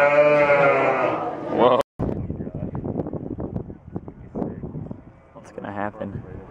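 A sheep lets out a long, wavering bleat, followed by a stretch of talking and then a second, shorter bleat near the end.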